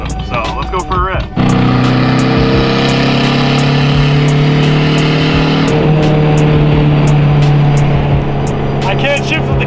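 A car with its exhaust ripped out, driven on the road: after a brief voice at the start, a loud, steady, raw engine drone fills the clip, its pitch shifting as the engine revs.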